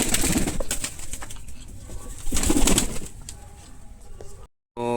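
Close by, European Lahori pigeons coo softly in a few low bursts, mixed with fluttering and rustling wing sounds before a brief silence and a sudden return of noise.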